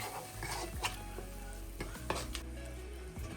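Curry with tamarind water being stirred in a pan, a soft continuous sizzle with scattered scrapes and light clinks of the spoon against the pan, quiet and close.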